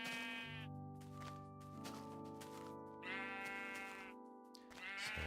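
Sheep on a video game farm bleat repeatedly, each call drawn out and overlapping the next, set against a quiet background with no speech.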